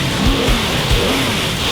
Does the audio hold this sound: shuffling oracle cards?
no